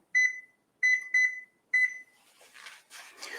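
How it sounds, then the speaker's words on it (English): A timer sounds four clear electronic beeps, with the middle two close together, followed by soft rustling and handling noise. "now I'm going to set a timer for 5 minutes"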